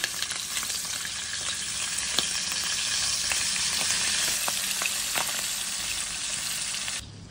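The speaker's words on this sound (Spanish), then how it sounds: "ya tengo el aceite aquí precalentado y la vamos a poner a dorar. Ahora la vamos a dorar con fuego bajo." Meat browning in preheated oil over low heat: a steady, close crackling sizzle with scattered pops, continuous for about seven seconds and dropping off slightly at the end.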